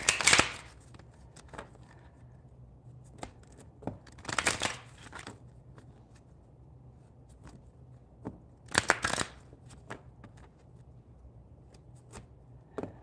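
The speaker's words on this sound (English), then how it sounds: "Let me just do a couple shuffles here" Tarot cards are shuffled in quick riffling bursts, close and crisp, with soft taps and pauses between them in a quiet room.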